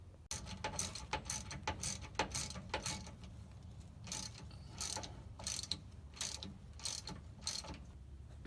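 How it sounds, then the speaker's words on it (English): Ratchet wrench cranking down U-joint bolts on a 2005 Dodge Ram 1500, a steady run of close metallic clicks in bursts with short pauses between strokes. "tighten them down with the wrench."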